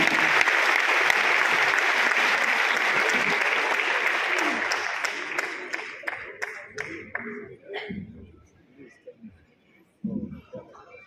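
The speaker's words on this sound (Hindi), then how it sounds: "एक बार जोरदार तालियों के बीच में आगे।" Audience at a Hindi comic poetry gathering in a Kolkata auditorium bursts into loud applause that holds steady, then tapers into scattered claps and fades to near silence, with a brief voice near the end.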